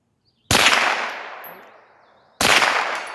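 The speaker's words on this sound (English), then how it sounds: "So I'm going to go lefty at 100 yards. Let's see if I can make those hits. Okay, shooting offhanded." Two sharp Ruger 10/22 rifle shots fired offhand outdoors at a 100-yard target, each a loud crack followed by a long ringing decay, spaced about two seconds apart with no talking.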